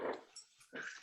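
A dog gives a short, fairly quiet growl with a whimpering edge, two brief bursts separated by a pause, indoors.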